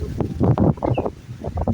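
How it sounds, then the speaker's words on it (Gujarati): Strong wind gusts at Bhavnath buffet the microphone, producing a loud, uneven low rumble that swells and fades in bursts throughout. "આજે ભવનાથમાં પવન પણ જોરદાર ફૂંકાઈ રહ્યો છે"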